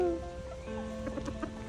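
Chickens cluck in a short series of soft, choppy calls, close by, with a faint steady hum in the background.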